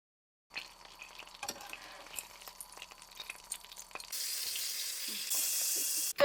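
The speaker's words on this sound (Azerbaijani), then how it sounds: "İndi qızardıram 200-də inşallah." Chicken pieces fry in melted butter at high heat, a soft crackling sizzle with scattered stirring clicks that grows into a louder, steady hiss in the last seconds.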